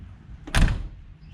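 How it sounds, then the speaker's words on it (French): A Mercedes G-Class Brabus door closes with one solid, heavy thunk that is close and short, set against quiet surroundings. "Le bruit de la porte. On va la fermer."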